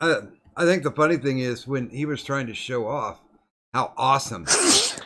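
One sharp, loud sneeze bursts out near the end, following a stretch of conversational speech.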